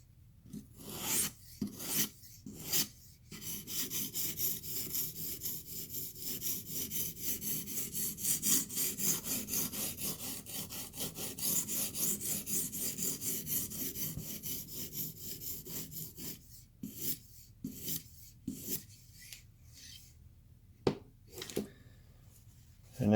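A knife edge is ground across a 250 grit sharpening stone in a steady, continuous rasping scrape, opening and closing with short separate strokes, close up with no talking.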